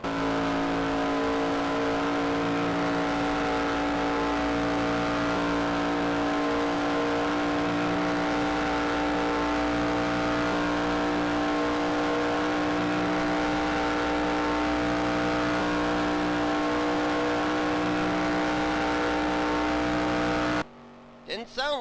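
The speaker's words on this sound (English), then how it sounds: "let's go on board with him and listen to how the engine sounds" An onboard race car engine in an endurance race drones loudly and steadily at high revs throughout, a sustained buzzing tone before cutting off abruptly at the end.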